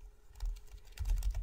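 Computer keyboard typing in a few quick bursts of close, light key clicks, with a brief pause between the bursts and no talking.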